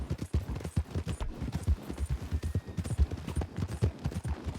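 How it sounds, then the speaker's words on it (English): Horse hooves clip-clop in a steady walking rhythm across the Heartlands in a video game, close and distinct, with no talk over them. "Let's get that horse of yours a bit worked out here in the Heartlands"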